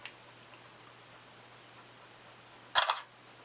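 A smartphone camera shutter fires once from a Bluetooth monopod button, a single short, crisp click near the end after a faint tick and near silence.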